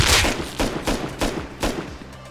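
Rapid volley of about six loud, sharp gunshots in the survival game Rust, evenly spaced and close, each with a short tail, and no talking.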